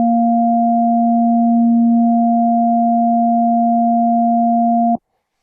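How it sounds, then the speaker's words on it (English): A sine-wave oscillator on the IceWorks Nambu synth holds one steady, pure, loud tone for about five seconds, then cuts off abruptly into silence. "And lastly, that sine wave"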